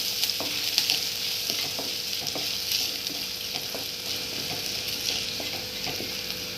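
Garlic and ginger pieces fry gently in hot oil, giving a soft, even sizzle close by, with light spoon taps and stirring scrapes recurring throughout and no voices.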